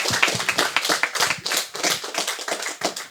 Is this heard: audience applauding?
yes